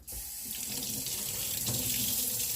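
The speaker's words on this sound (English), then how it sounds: "I just went out and harvested some sage that I'm going to wash off." Tap water runs steadily into a kitchen sink while freshly harvested garden sage is washed, a continuous close splashing stream with no talking.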